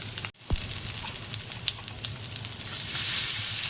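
Chilies drop into hot oil in a home kitchen pan for a Konkani-style vegetable dish, setting off a steady, close sizzle and spatter that carries on without pause, with no talking.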